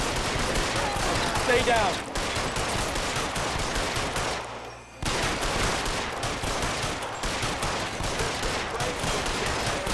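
A pistol emptied in one rapid burst in the LA Noire video game: dense, unbroken gunfire that breaks off briefly, then resumes, loud and close, with a voice speaking over it.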